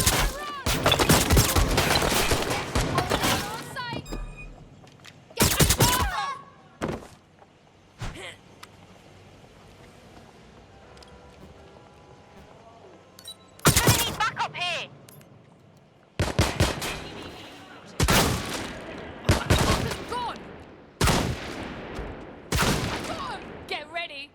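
Video game gunfire from Watch Dogs Legion comes in loud bursts of rapid automatic shots separated by quieter gaps, while players shout excitedly over the action.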